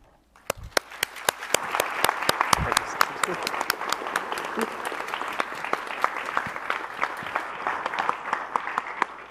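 An audience applauds to welcome Harold D'Souza, a member of the U.S. Advisory Council on Human Trafficking, at a Department of Defense awareness event: steady, dense clapping from a room full of people that swells and holds, with sharp individual claps standing out.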